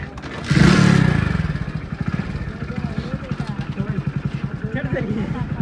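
A 500 cc motorcycle labouring uphill on a road toward a gurudwara, its engine pulsing in a steady rapid thump after a loud opening rev, close by with people talking over it.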